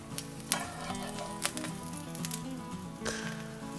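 Noodles for ganjjajang frying in a hot pan with jjajang sauce, a steady close sizzle broken by a few sharp crackling bursts as they are stirred.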